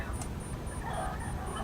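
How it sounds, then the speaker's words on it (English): Chickens cluck in the background outdoors on a Sunday barbecue day, with faint, repeated fowl calls under a steady noisy backdrop. "You can hear my chickens in the background."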